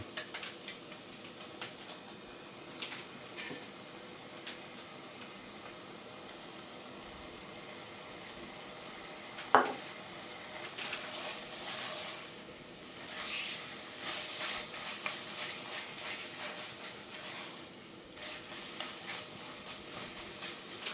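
Quiet, steady sizzling of chicken frying in coconut milk fat in a pan for khao soi, with occasional louder crackles and stirring sounds; no talking.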